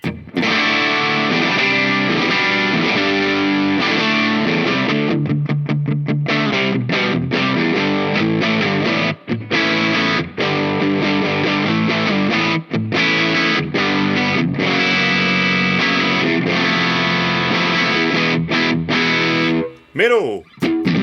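Fender Elemental Series Jazzmaster electric guitar on the bridge pickup through a DevTech Audio soft drive pedal with a Polyeffects Bebo reverb, playing continuous loud, mildly overdriven chords and riffs with brief pauses, a sliding bend near the end.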